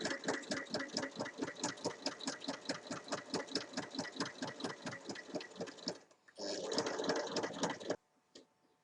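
A sewing machine stitches around a zippered fabric pouch, a fast steady mechanical chatter held for several seconds, a brief pause, then a short final burst before stopping.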